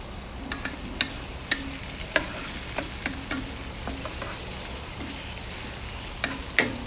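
Sliced zucchini with chopped garlic sizzles steadily in a hot pan, with scattered light clicks and scrapes of stirring throughout and no talking.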